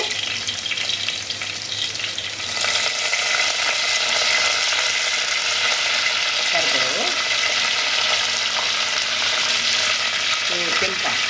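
Chopped garlic and curry leaves frying in a pan for a chicken dish, a dense steady sizzle that swells after a quieter start, with occasional stirring scrapes.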